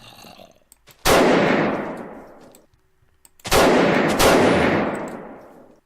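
Gunfire in a Minecraft roleplay game: three loud, isolated shots, each cracking sharply and then fading in a long echoing tail, with near silence between them.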